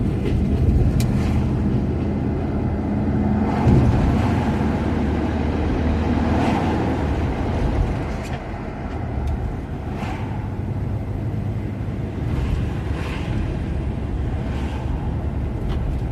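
A Ford Zephyr MKIV cruising in third gear, its engine and road rumble a steady, continuous drone from start to finish with faint interior rattles and no talk.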